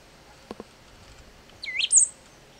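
A recorded bird call played back during a recognition demo: a couple of faint clicks, then a bright, rising chirping phrase of about half a second, fairly loud and heard alone.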